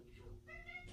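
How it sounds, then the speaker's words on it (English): A hungry pet cat meows once, close by indoors, in a single drawn-out plaintive call over a low steady room hum. "that's a cat."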